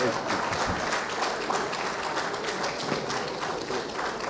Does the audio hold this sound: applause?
yes